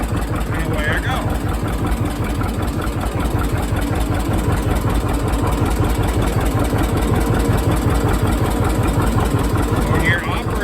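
A vehicle engine runs steadily as it pulls away using a hand clutch, a loud, continuous, even-pulsing drone close by that holds level from start to finish.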